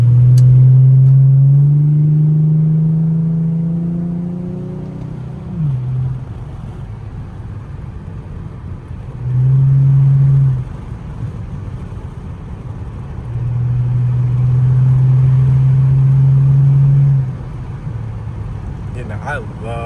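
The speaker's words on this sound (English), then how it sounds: "I love the way the Infiniti sounds." Infiniti G35 car engine while driving, heard from inside the cabin as a deep droning hum that rises with acceleration, then several loud revving surges over a steady road rumble, with someone talking at times.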